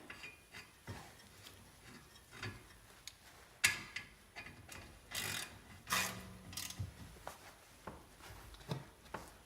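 A bolt being fitted and tightened on a brake caliper, heard as a series of faint metallic clicks and ratcheting ticks at irregular intervals, close and quiet, with a few sharper knocks midway.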